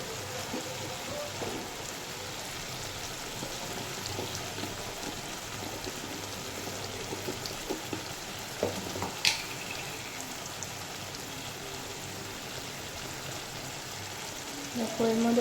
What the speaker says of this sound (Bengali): এখানে তেল গরম হয়ে গেছিলো, আমি পটল বাটা পেস্টটা পুরো কিন্তু তেলে দিয়ে দিয়েছি।